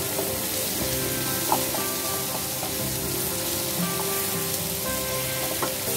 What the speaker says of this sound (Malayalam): ഇനി നമുക്ക് 2 മിനിറ്റ് സവാള ഒന്ന് സോട്ട് ചെയ്തെടുക്കാം